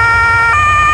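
A fire truck siren wails loud and close, holding a steady high electronic tone with a brief upward sweep midway, with no voices over it.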